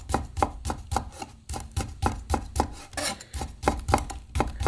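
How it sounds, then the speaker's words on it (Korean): A knife slices jujubes (dates) thinly on a cutting board, producing quick, evenly spaced taps in a steady rhythm, close and fairly quiet, with no voices. "대추를 얇게 채 썰어 주세요."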